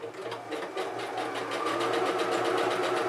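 Sewing machine stitching a fabric handle loop for a lined box bag, a steady rapid mechanical whirr with a fast even needle rhythm running continuously and close.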